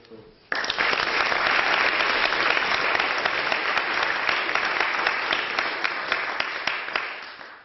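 A debate audience in a chamber breaks into loud, sustained applause for an introduced speaker. The clapping starts abruptly, stays dense and even for about seven seconds, then tapers off at the end.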